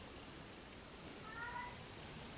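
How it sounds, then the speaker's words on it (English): A cat meows faintly at a door, a brief soft call rising over steady low room noise, with no one talking. "I have a cat at the door who wants to watch this review."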